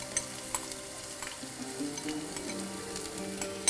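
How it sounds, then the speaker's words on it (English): Onion frying in hot oil for a carrot thoran, a soft steady sizzle with sporadic pops and spatters, close but fairly quiet, no speech over it. "Yes, we're going to put all this Onion."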